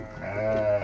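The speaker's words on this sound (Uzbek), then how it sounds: "Bular ham shunday, 2 ta 3 ta tuqqan qo'ylar." A ewe that has lambed two or three times gives a single drawn-out bleat, close and clear, with faint farmyard murmur behind it.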